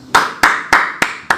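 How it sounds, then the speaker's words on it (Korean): Five sharp, evenly spaced claps in slow rhythm, close and fairly loud, like a small group clapping in unison rather than sustained applause. "지났지만 박수 한번 쳐줍시다."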